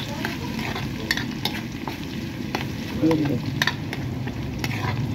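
Garlic sautéing in oil in a pan for corned beef spaghetti, a steady close sizzle and crackle with the occasional scrape of stirring running throughout.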